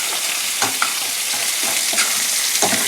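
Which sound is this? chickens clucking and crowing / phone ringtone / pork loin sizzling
pork loin sizzling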